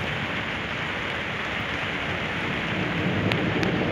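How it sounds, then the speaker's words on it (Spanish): Rain pouring down outdoors on the Cumbres de Maltrata roadside, a steady, loud, dense hiss of drops hitting surfaces that swells slightly near the end. "Y ya se soltó la lluvia y ahorita no me voy a mover."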